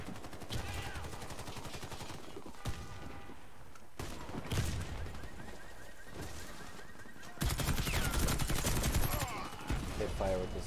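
Bursts of automatic gunfire crackle in Warface, with rapid rattling volleys starting and stopping and a louder stretch of shooting toward the end, while a voice speaks intermittently.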